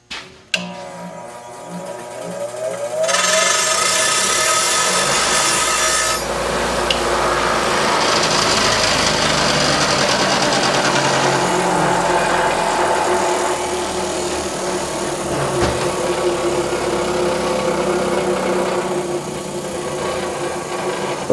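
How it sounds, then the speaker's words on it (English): Steady abrasive filing or grinding on the end of a metal rod, deburred on a John Deere 3010 tractor repair, running loud and continuous for most of the clip after a brief quieter start. "I gotta deburr the end of that or else I'm gonna tear up my brass bushing."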